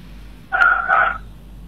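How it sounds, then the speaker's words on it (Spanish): A small dog lets out two quick, sharp barks close together, heard faintly in the background of a sports radio broadcast with otherwise low room noise. "¿Tu perrito está ahí?"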